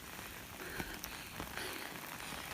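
Steady rain falls on a mountain trekking trail on the route to Gosaikunda, a dense even hiss of drops with a few sharper taps close by, continuous and moderately loud with no talking.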